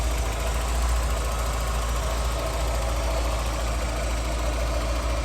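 A 1989 Volkswagen Golf GTi Mk2 with its 8-valve engine idles steadily at close range, a constant low rumble and mechanical hum with no talking.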